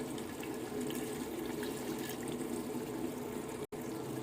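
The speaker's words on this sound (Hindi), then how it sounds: "अब इसमें ऐड करेंगे 1/2 कप से भी कम पानी" Less than half a cup of water pours steadily into a chicken matka biryani pot on a medium flame, a continuous close splashing trickle that briefly cuts out near the end.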